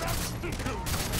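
Sustained gunfire in the Far Cry 3 video game, a dense continuous fusillade of rapid shots filling the short span, loud and up close, with a voice talking over it.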